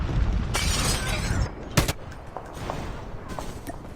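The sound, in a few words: gunfire in the video game Call of Duty Mobile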